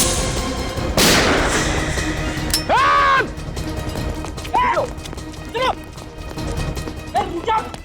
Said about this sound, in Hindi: फायर कहाँ से हो रहा है?